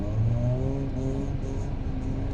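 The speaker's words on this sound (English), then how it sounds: "watching a bit of drifting" A nearby drift car's engine roars and revs at a D1NZ drifting event in Pukekohe, a steady, throaty drone that holds for a couple of seconds.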